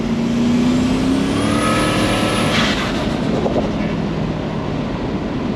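A ute engine fitted with a small rear-mounted turbo roars loudly and steadily close by, with a rising whine as it revs and no voices.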